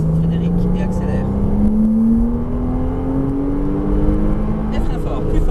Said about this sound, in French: Allez, tu peux élargir et tu peux accélérer. Gaz à fond, diagonale.